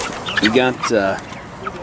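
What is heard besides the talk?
Cornish cross chickens clucking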